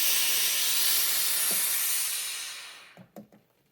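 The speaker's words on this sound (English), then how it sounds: "let's go ahead and push the steam button and see what we got" Steam hisses loudly and steadily from a Reliable 4000is boiler iron at about 40 psi for over two seconds, then fades out, leaving a few faint clicks and taps.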